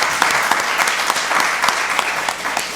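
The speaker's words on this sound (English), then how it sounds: "I think that deserves a round of applause" Applause for a chairman at a county board of commissioners meeting, a brief burst of many hands clapping in a dense, steady patter close by.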